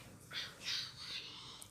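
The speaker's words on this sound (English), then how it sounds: "This bird is pretty big." A large bird gives a few short, harsh squawks, fairly faint and close together, over a steady low background hum.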